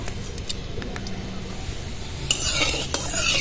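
Cinnamon, cloves and cardamom dropped into hot oil in a kadai, a dense close sizzle with utensil clinks and scraping that grows louder and brighter toward the end.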